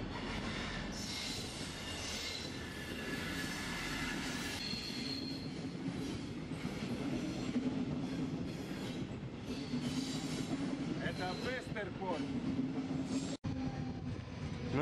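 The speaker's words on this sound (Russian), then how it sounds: "Ну что, это наш поезд." A train pulls into a station in Copenhagen, its wagons rumbling with squealing wheels and steady mechanical noise held at a loud, continuous level until a sudden cut near the end.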